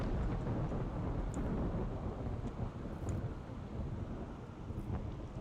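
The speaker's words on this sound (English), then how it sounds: "These got struck by lightning." Thunder from a lightning strike in a video game rumbles as a dense, low, sustained roar, faint and steady throughout without speech.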